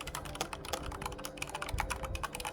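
Rapid clicky keystrokes on a gaming computer keyboard, close and steady, with fast irregular taps running continuously throughout and no talking.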